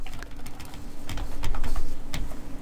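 Quick bursts of keystrokes on a computer keyboard while entering a value in NX CAM software, close and clear, in uneven clusters with short pauses between them.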